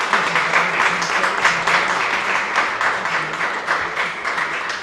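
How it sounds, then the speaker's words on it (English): A crowd applauds with dense, continuous clapping that stays steady throughout, filling the room at moderate loudness, at a county ceremony honoring a high school boys volleyball team. "That deserves a round of applause."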